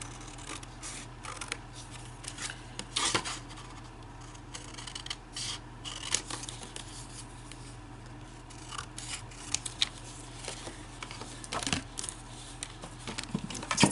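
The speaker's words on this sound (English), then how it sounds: "and I'm just gonna cut it out." Scissors snip through a paper restaurant menu, crisp irregular cuts and rustling paper heard close up in a quiet room.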